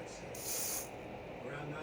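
Hair spray hisses in a short, steady burst onto a mannequin head's styled hair, close and clear, lasting under a second amid a quiet room.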